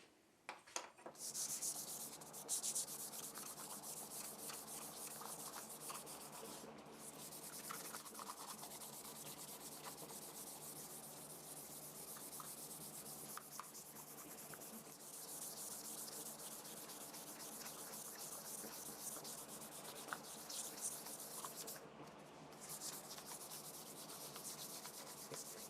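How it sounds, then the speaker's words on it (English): Light scuff sanding by hand around a custom-built guitar body before an Aquacoat grain filler goes on, a steady, continuous close rasping rub that runs alone for the whole stretch with brief pauses. "just very quick, light scuff sanding all the way around"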